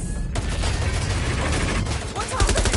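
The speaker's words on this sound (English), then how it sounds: "Gunfire!" Continuous loud gunfire in Watch Dogs Legion, dense overlapping bursts and rattling shots filling the whole stretch without a break.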